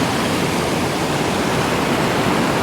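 A waterfall in old growth forest in Washington State, heard up close as a loud, steady roar of rushing water, broadband and unbroken throughout with no voices.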